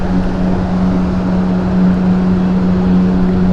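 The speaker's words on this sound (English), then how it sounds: "It's unusual being taxied or tugged by a tractor." Airliner being tugged by a tractor at Helsinki Airport, heard as a steady, droning low engine hum with a constant tonal note, even and unbroken throughout.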